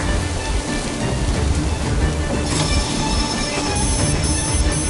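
A train in Metro Exodus rolls and brakes, with heavy rumbling wheels, metallic rattling and a brighter squeal rising midway, loud and close with no voices over it.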